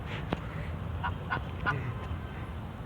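A few honking quacks from ducks at the water's edge sound out over low background noise, spaced irregularly and moderately distant.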